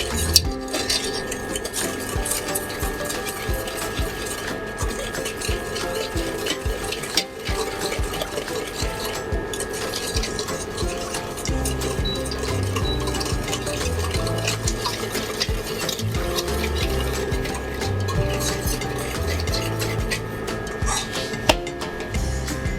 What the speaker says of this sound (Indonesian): Dan kita aduk hingga merata.